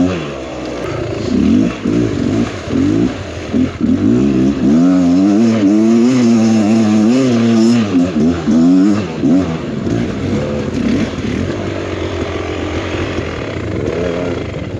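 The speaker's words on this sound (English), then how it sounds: "I hear lots of bike noise" Enduro dirt bike engines revving on a wild trail ride, a loud continuous snarl rising and falling in pitch as throttles are worked, several bikes close by and sustained throughout.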